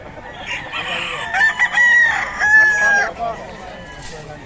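A young rooster (stag) crows at a Pampanga poultry sale, a close, loud drawn-out cock-a-doodle-doo lasting a couple of seconds amid background murmur and clucking.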